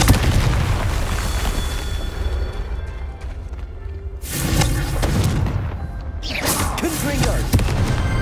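A fiery Confringo spell bursts in Hogwarts Legacy with heavy booming blasts, a loud rumbling explosion followed by a second sharp burst partway through, close and forceful.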